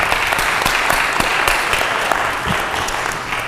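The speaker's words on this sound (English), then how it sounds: "a big round of applause for Sunshine Cathedral" A hall crowd at an anniversary celebration gives a big round of applause, a thick sustained patter of many hands with occasional sharper claps, loud and steady throughout.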